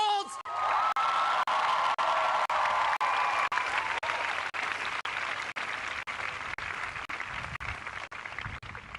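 Big outdoor crowd at the Dartmouth 2011 commencement bursting into loud applause and cheering, a thick roar of clapping and whoops that holds steady and slowly fades.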